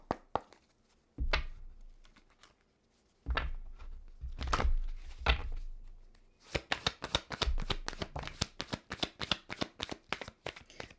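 Tarot cards are shuffled by hand nearby: a few separate riffles and slides, then a quick run of crisp repeated snaps and flicks.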